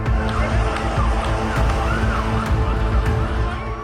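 Fire brigade and ambulance sirens wailing across a city under missile attack, rising and falling tones amid a dense, loud urban roar with traffic and crowd noise.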